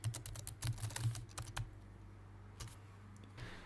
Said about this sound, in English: now you can hear how nicely this keyboard sounds when typing.